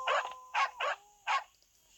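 A pet dog in a video game barks four times in short, evenly spaced yelps, moderately loud and close, with nothing else around it.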